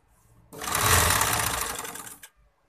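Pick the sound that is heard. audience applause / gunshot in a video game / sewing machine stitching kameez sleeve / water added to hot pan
sewing machine stitching kameez sleeve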